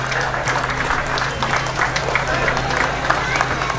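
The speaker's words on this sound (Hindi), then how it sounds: "जोरदार तालियों से आप इनका उत्साहवर्धन करें" A crowd applauds Dr. Shankari at a flag-hoisting ceremony on a golf ground, steady clapping over a low hum of a PA system, with some voices mixed in.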